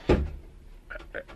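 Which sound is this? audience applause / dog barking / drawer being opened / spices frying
drawer being opened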